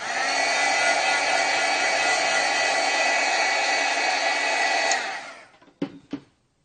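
A hair dryer dries archival stamp ink on pottery glaze, blowing with a loud, steady whine for about five seconds before switching off, followed by a couple of handling knocks.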